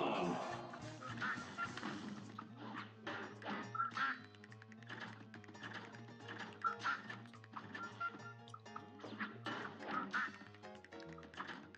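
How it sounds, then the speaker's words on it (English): Repeated duck quacks in the run-and-gun game Cuphead, nasal calls popping up again and again over busy, bouncy game music with shooting effects throughout. "Okay, what are these quackers?"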